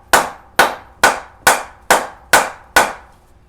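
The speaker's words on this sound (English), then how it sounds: "use a dead blow hammer and a block of wood" Seven evenly spaced, sharp knocks from a dead blow hammer striking a block of wood to drive a harmonic balancer onto a 1980 K5 LS-swapped engine, loud and close with no talking.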